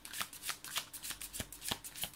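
A tarot deck is shuffled in a run of crisp riffling bursts, about eight quick rustling slaps spaced unevenly over two seconds. The cards sound close and fairly loud, with no voices.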